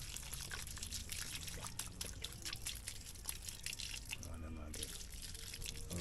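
Water poured and trickling steadily onto plants and soil in a backyard farm during dry weather, a continuous close splashing flow with drips, while someone talks over it.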